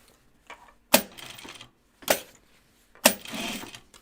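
Home sewing machine stitching an anorak with a noisy, chattering presser foot, three short loud mechanical bursts separated by pauses, close up with no talking.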